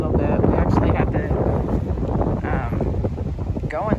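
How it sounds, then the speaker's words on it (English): Steady, loud wind rushes across an outdoor microphone beside a garden plot, a dense continuous roar with buffeting gusts, while a person talks over it. "The wind has died down a little bit."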